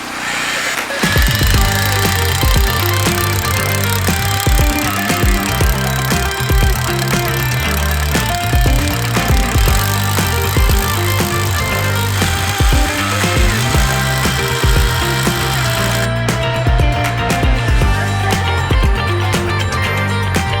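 A rock drill bores holes for rebar into stone beside a waterfall where a hot tub is being built, a loud, continuous hammering roar that runs unbroken for about twenty seconds with engine drone underneath.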